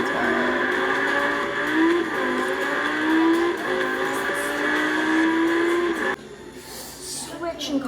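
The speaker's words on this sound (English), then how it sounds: "now I'm gonna drive like a race car" A car driven hard like a race car, engine revving loudly with rising and falling pitch through gear changes for about six seconds, then cutting to quieter road noise.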